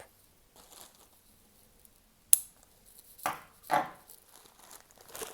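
Scissors cut through crochet yarn with one sharp, close snip, followed by a couple of softer rustling handling sounds in an otherwise quiet room. No one speaks.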